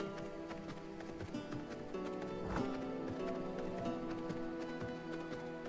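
Horse hooves clip-clop steadily in the V Rising video game, a repeated rhythmic tapping mixed into a dense, busy game soundscape of music and ambience.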